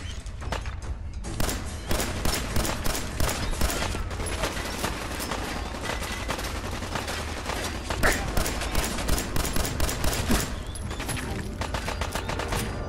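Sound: gunfire in the video game Fallout 4

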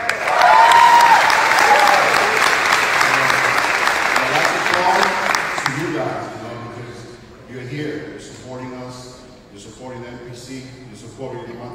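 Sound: audience applause at bodybuilding show

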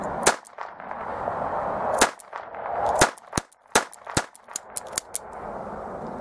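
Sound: Ekol Viper .22 blank revolver firing shots

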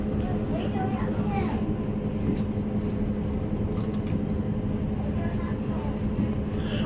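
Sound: train entering Bristol Temple Meads station

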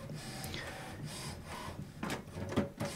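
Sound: HP Smart Tank printer powering on

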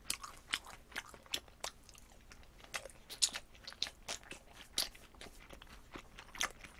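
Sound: crunchy chewing of Korean sweet and sour pork

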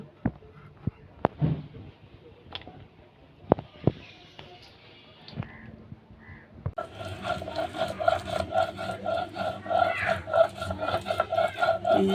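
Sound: grinding garlic and ginger on a grinding stone

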